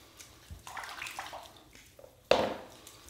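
Water splashes over a freshly shaved head during a rinse, with soft trickling and a sharp louder gush near the end, close by.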